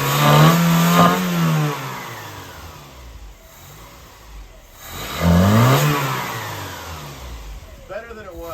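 A Dodge D-50 pickup's engine, just given a rebuilt carburetor with the electric choke still unhooked, revs up twice in loud surging blips that sweep upward and then sag back toward idle, heard close by.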